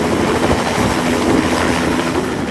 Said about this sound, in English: We're going to ride on the helicopter and fly to school.